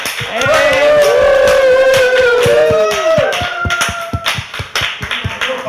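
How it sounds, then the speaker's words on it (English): A pub audience at a talk-show event bursts into a dense, loud round of clapping with rising whoops and cheers layered over it, thinning into scattered claps toward the end. "Let's have a huge round of applause for Ellen, and some cheering and whooping as well."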